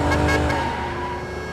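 A car speeds along as a makeshift ambulance, its engine revving loud and close with a rising then fading roar over a second and a half.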